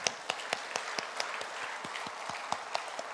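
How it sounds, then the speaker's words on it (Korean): A church congregation at a Korean revival meeting marking the church's 20th anniversary applauds, with a broad hiss of many hands and a few sharper claps standing out at irregular intervals. "우리 큰 박수로 한번."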